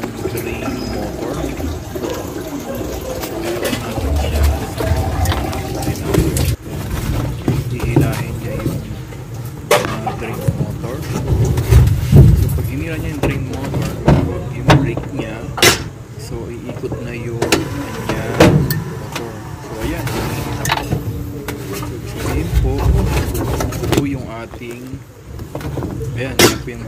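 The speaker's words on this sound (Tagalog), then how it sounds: "Yung kanya pong drain motor." Drain motor of an LG fully automatic washing machine under test, giving intermittent motor whirring and watery sloshing that rises and falls, with a person talking over it.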